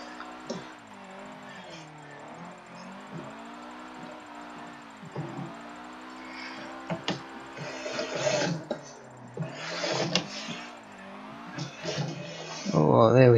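Nissan S13 Silvia drifting in Forza 7, its engine droning and shifting pitch through the corner with a rising tire squeal near the end, heard beneath continuous talk.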